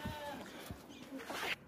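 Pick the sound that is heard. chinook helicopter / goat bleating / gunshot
goat bleating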